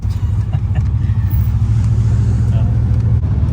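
A 1960 Volkswagen Beetle air-cooled engine held at high revs, a loud, steady, close rumbling drone with a pulsing low throb and no gaps.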